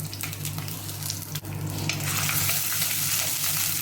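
Small onions and green chillies frying in hot oil in a clay pot, a steady loud sizzle with scraping stir strokes throughout, growing slightly brighter toward the end, no voices.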